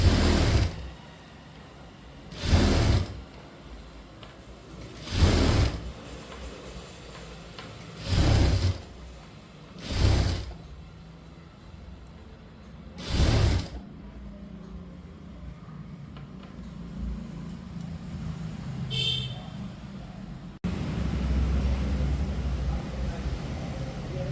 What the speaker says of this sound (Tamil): டபுள் ஸ்டிச் போட்டுருங்க.